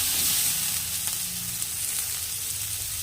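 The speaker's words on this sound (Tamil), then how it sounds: "லைட்டாக அதை வதக்கிக்கலாம்." Onion and tomato sautéing in a pan for chicken curry, a steady close sizzle and crackle of frying with faint stirring, continuous throughout with no talking.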